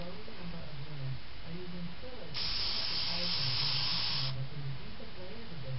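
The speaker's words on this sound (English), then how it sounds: "I'm going to try to spray it" Filter oil is sprayed onto the pleats of a new air filter. One continuous hissing burst lasts about two seconds, with a low hum and quiet background sound before and after it.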